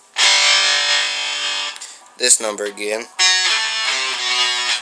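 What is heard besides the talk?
electric guitar playing a riff with distortion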